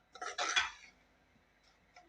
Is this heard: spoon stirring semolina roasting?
yes